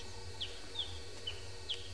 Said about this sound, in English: I can hear sunbird. I don't know which one.